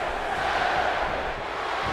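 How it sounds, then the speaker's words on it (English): Video game arena crowd in WWE 2K15 roaring steadily as a wrestler is swung around, a dense continuous wash of cheering and chanting at constant loudness throughout. "revolving him, and the crowd is just counting along."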